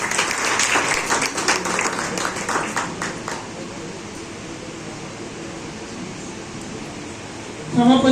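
An audience at a Sen Ji Maharaj Jayanti celebration held by a Nai community group applauds to welcome a guest. Dense clapping for a few seconds fades into a quiet room hum, and a voice begins just at the end.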